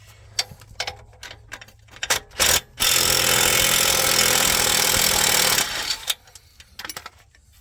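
Power tool removing the lower shock absorber bolts on a Jeep TJ, a few short bursts followed by a loud sustained rattling run of about three seconds, then more short bursts, close up.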